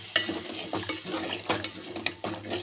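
A spoon scrapes and stirs through thick mutton kola urundai kulambu in a pan with a soft sizzle, in uneven repeated strokes close by.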